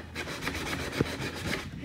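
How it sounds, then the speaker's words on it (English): Close, soft rasping strokes of sandpaper rubbing by hand on the wooden top of a thrifted furniture piece, repeating in a quick, steady back-and-forth rhythm with no talking. "she has been sanding down the top, making everything nice and smooth"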